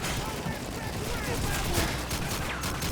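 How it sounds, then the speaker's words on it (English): Enemy gunfire in Call of Duty 2 crackles as a dense, continuous spray of shots under steady battle noise, moderately loud throughout the short stretch. "that guy over there started shooting at me"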